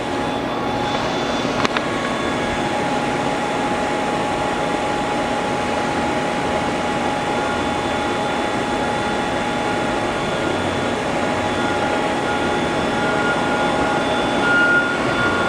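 A 2007 Doosan DMV-3016LD vertical machining center with its rotary axis turning, giving a steady, unbroken mechanical whir and hum at an even level throughout.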